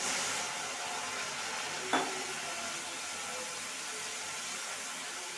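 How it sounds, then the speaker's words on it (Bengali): Water poured onto caramelised sugar in a pan raises a loud, continuous hissing sizzle that stays nearly even throughout, with one small click partway through. "চিনিটাকে ক্যারামেল করে নিয়েছি এবার দিয়ে দেবো সামান্য জল"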